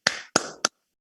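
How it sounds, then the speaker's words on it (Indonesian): A group performs the rhythmic 'tepuk semangat' spirit clap for schoolchildren: three quick, sharp, close claps in a steady beat, then a short pause before a fourth, with no talking. "Kita kasih tepuk semangat dulu Bu ya buat anak-anak ya."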